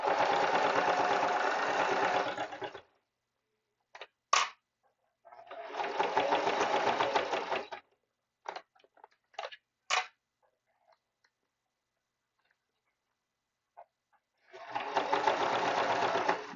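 A sewing machine on a zigzag setting stitches fabric in three loud, steady runs of rapid mechanical chatter, with short taps and handling noises between the bursts.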